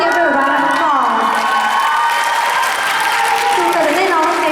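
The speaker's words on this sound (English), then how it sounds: "Please give her a round of applause." An audience at a 2014 fashion show cheers, whoops and claps loudly and continuously, with music or a voice carrying over the steady crowd noise.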